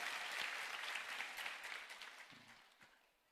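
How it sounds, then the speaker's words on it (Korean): A church congregation at a Thanksgiving service claps together in a sustained round of applause, strong at first and then thinning and fading out toward the end, heard at a soft, somewhat distant level. "우리 하나님께 영광의 박수 올립니다"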